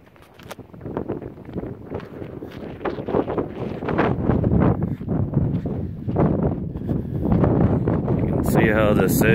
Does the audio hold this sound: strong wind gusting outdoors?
yes